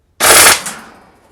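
A short, loud burst of rapid fire from a full-auto gel bead toy gun, a harsh rattling blast lasting about half a second, then a fading clatter.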